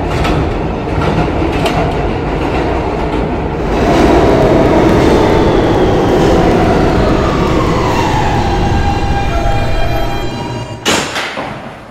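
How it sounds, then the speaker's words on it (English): A New York subway E train heading to Fairview Avenue rumbles along the track with a loud, continuous roar, rhythmic clatter and thumps, and a high wheel squeal before a sharp bang near the end. "This is a Fairview Avenue bound E-train."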